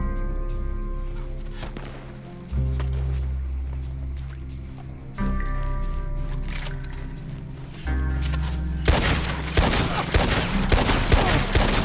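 Rifle shots ring out in Red Dead Online's Old West setting, several sharp reports spaced a few seconds apart, then a denser cluster of shots toward the end, over a loud in-game musical background.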